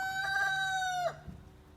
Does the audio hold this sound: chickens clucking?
yes